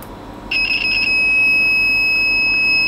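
Sunshine DT9025E digital multimeter in buzzer continuity mode giving a loud, steady high-pitched electronic beep that starts after a brief pulsing onset and holds continuously to the end, with no talking.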